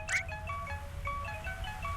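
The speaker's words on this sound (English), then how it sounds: "Why do you have a creepy ringtone?" A creepy phone ringtone from the video game To the Moon plays as a few soft, sparse chiming tones over a low background hum, with no talking.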